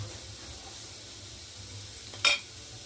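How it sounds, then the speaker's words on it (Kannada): Hot oil tempering is poured into a gooseberry (amla) dish for a Navratri festival meal, giving one short, sharp sizzling burst near the end over a steady, quiet kitchen hiss. "ಇದು ಒಗ್ಗರಣೆ ಹಾಕೋಣ."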